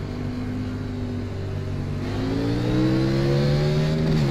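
Race car engines in the iRacing simulation at Richmond, NASCAR-style stock cars running behind the pace car, drone steadily and climb slowly in pitch as several cars pass close by, with no talking.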